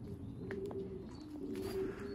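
Pigeons at a loft coo softly and continuously, close by, over a steady low background hum.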